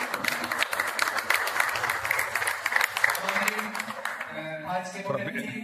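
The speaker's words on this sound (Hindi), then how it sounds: "तालियों से अभिवादन करें" Seated audience at a teacher-training programme applauds steadily at moderate volume, the clapping thinning out as voices take over toward the end.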